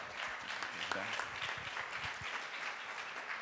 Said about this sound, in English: let's give applause to all the presenters